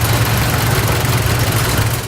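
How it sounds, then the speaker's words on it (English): A 1980 John Deere 1050 tractor engine runs at a steady idle, a loud, close, low rumbling drone with an even chugging pulse throughout and no voices. "Go out there and hear that engine run."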